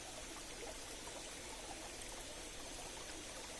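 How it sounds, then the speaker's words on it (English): Water from three streams meeting at an intersection makes a faint, steady rush and trickle, an even babble with no voices over it. "try to ride along the waves of sounds of the water"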